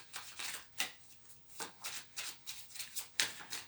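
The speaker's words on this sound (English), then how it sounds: "And so I'm going to pull a few cards." A deck of cards is shuffled by hand in a quiet room, a series of soft, quick riffling bursts repeating in an uneven rhythm, close and faint.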